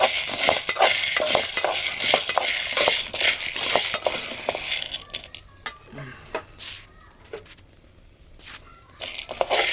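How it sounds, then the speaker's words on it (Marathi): Cowpeas dry-roasting in a metal pot, stirred vigorously so the dry beans rattle and scrape loudly against the pot, then slowing to scattered clinks and taps before a final burst of stirring. "चवळी मी टोपामध्ये टाकली आहे. आता ती मी भाजून घेणार आहे."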